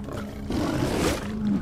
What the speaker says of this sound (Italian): No ragazzi, la tigre ci ha visti.